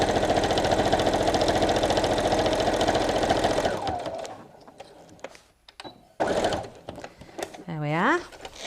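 Sewing machine running a reinforcement seam on a fabric picnic tote, a steady close motor whir for several seconds that stops, followed by quieter handling noises and a brief squeak.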